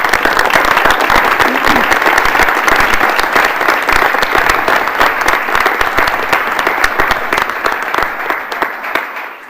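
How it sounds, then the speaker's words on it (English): Sustained applause from the audience at a University of Wisconsin System Board of Regents meeting fills the room, steady dense clapping without a break that eases slightly toward the end. "let's give a round of applause for a thank you and a commitment"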